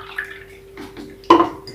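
Two cups of water are poured over a spoonful of cornstarch for a no-bake cheesecake, giving short splashy pours with a brief louder gush near the end, close by and without voices.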